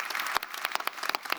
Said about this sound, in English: let's give a warm round of applause to this fantastic panel